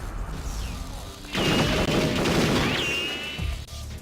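Gunfire and an explosion in the video game Perfect Dark, a dense burst of loud shots and crashing blast that lasts a couple of seconds and then tails off.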